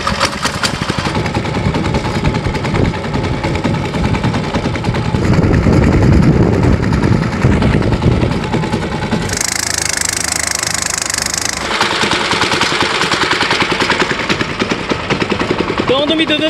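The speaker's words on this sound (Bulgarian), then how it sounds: "Ето как се стартира лодка." A small pull-cord-started boat outboard engine sputters and catches, then runs with a loud, rough knocking idle up close, with brief changes in pitch.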